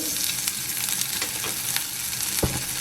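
Cumin and grated ginger sizzle in hot oil for a tofu curry, a steady close frying crackle with a brief stir or utensil clatter near the end.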